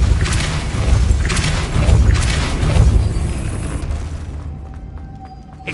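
A Repulsor spell cast in the Hogwarts Legacy video game lets out a loud booming magical blast that rumbles on for several seconds, then decays into a quieter ringing tail.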